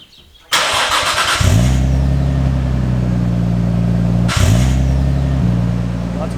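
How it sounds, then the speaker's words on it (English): A Nissan R32 Skyline with a rusty exhaust cranks and fires up, settling into a loud, close idle with a deep droning note, then is blipped once more mid-clip before returning to a steady rumble. "it'll do just to hear the car rev, I guess."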